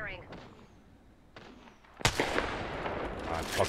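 Gunfire in the Apex Legends video game: after a quiet stretch with faint game sounds, a loud burst of rapid shots starts and continues as sustained firing to the end.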